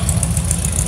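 A 1938 American Bantam Roadster with a small 20 horsepower engine idles close by, a steady low rumble with even pulsing and no voices.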